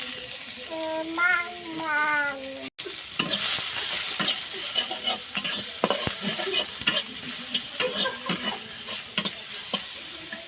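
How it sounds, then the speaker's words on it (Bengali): Chopped onions hit hot oil in a village kitchen with an abrupt loud hiss that becomes a steady crackling sizzle, stirred with repeated utensil clicks. A brief tonal sound comes first, before the frying starts. "এখন এই তেলেতে আমি দিয়ে দিলাম পেঁয়াজ কুচি।"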